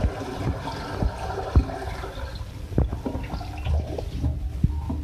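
Water splashes and trickles into a cooking pot of lamb yakhni pulao nearby, with scattered clinks and knocks of the pot, no talking.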